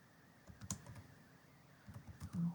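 Text is typed on a computer keyboard in a quiet room: soft, close key clicks come in two short bursts with a pause between them, and the last few presses are a little louder.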